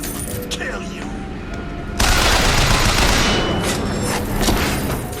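Sustained automatic gunfire in Bioshock Infinite's Clash in the Clouds, a dense crackling fusillade that jumps louder midway and stays heavy, with a voice shouting over the shooting.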